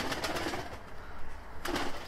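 Miro breed Altuni pigeons, an oily-feathered, glossy strain rare in Turkey, coo in soft, low repeated calls at close range, with a brief rustle near the end and no talking.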